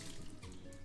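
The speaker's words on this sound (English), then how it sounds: "just going to wring the water out" Water splashes and drips as a wet cleaning cloth is wrung out by hand, a brief close trickle with no talking.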